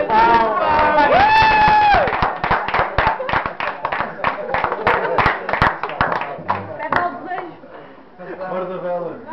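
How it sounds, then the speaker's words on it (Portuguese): At a birthday party, a crowd claps in rapid, uneven bursts close by after singing, with voices calling out over the applause. "Uma salva de palmas."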